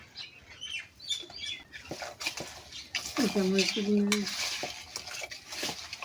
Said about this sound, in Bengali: সব কিছু দিয়ে এভাবে মেখে নেবেন